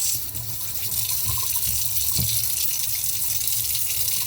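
Tap water runs steadily into a kitchen sink while fresh herbs are rinsed for homemade chicken soup, a continuous close splashing stream with a few brief knocks of handling.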